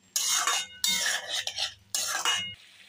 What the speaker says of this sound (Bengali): এভাবে নেড়ে চেড়ে আমি কষিয়ে নেব।